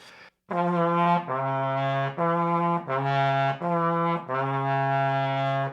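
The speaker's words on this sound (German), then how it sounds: "Wenn wir alle Ventile schalten, haben wir einen Tritonus." A four-valve flugelhorn plays a tritone with all valves pressed, a series of clear brass tones alternating between two pitches, loud and close, with no talk.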